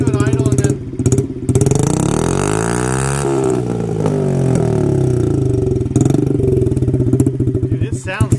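A Honda CRF 50 motorcycle with its exhaust baffle removed, running as a straight pipe, revs up and down loud and close, a throaty blat swelling and falling repeatedly, with brief voices between revs.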